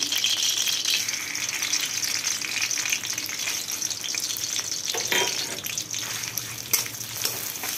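Ghetkul leaf paste fries in plenty of mustard oil, a continuous close sizzle with occasional rattles and stirring scrapes from the pan, no talking.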